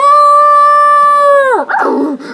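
A wolf in a My Little Pony video game gives one loud, sustained howl that holds steady, then bends downward and trails off into a rough, falling tail.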